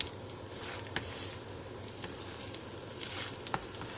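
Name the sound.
keema paratha frying in oil on a pan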